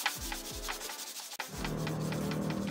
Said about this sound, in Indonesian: benda kerjanya kita amplas dulu dengan grit 240 atau 320